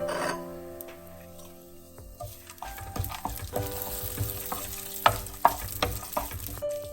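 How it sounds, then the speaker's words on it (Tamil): Chopped cashews and almonds fry in ghee in a pan with a bright, steady sizzle, broken by scraping stirs and a few sharp spits and clinks, without talking. "நெய்யுக்கு முதல்ல கஜுவும் அல்மண்டும் சின்ன சின்னனாக வெட்டி வச்சிருக்கிறேன் அதை ஒருக்கா பொறிச்சு எடுப்பேன்"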